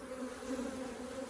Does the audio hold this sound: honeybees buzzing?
yes